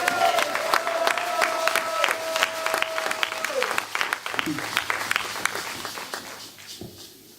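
A church congregation applauds with dense, rapid clapping that carries on throughout, with voices calling out underneath and a sustained tone in the first half, fading slightly toward the end.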